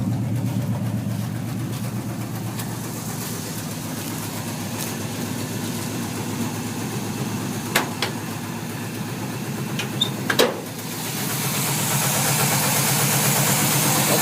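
A 1950 Plymouth Deluxe with a 350 engine and long tube headers idles steadily close by, with a low rumbling drone and a few brief clicks near the end.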